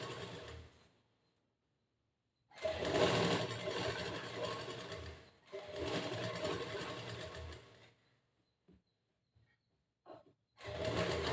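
A sewing machine stitches a boat neck blouse in three long runs separated by pauses, its motor whirring loudly and close, with a few faint clicks between runs.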